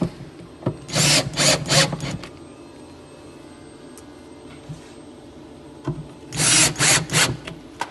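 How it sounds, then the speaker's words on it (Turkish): Screws driven into wood with a power screwdriver through a minifix drawer-rail jig, two close whirring bursts of several short pulses each, separated by a quiet pause with small handling noises. "Şöyle vidalayabilirim."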